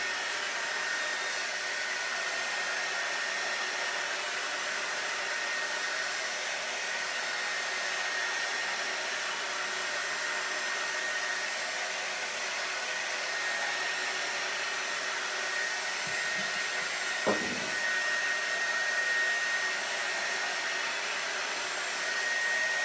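A hot air blower runs steadily close by while heating an oyster shell craft piece, a constant whooshing hum with a faint high whine and a brief knock near the end.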